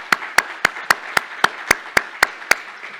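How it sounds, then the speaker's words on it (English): A round of applause at a business event on succession planning for business owners: about ten crisp, evenly spaced claps that sound close and isolated, with little crowd wash behind them and no speech. "if you can join me with a round of applause for all of the amazing people who came up onto this platform"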